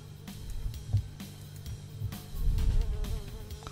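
Houseflies buzz in the video game Fly Simulator, a low, droning hum with fluctuating swells and faint clicks, heard alone without talk.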